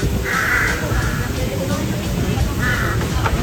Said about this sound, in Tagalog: May mga uwak dun.